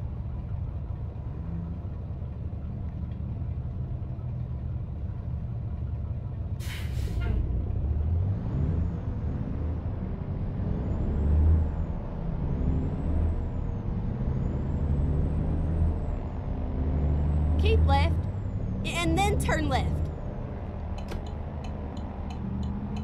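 Traffic in the American Truck Simulator game, with a steady engine rumble of passing trucks and cars and several sharp air-brake hisses, under continuous talk.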